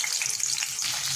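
Green chilies sizzling in hot oil in a pan, a loud, close, continuous crackling hiss with no talk.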